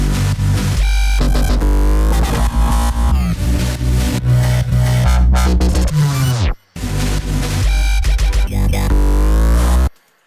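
Loud dubstep drop processed with a compressor and Effectrix, dense throbbing bass and stuttering glitched synths filling the whole range, cutting out briefly near the middle before slamming back in, then stopping abruptly.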